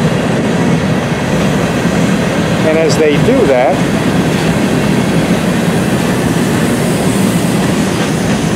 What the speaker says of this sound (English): here's a couple of hopper cars.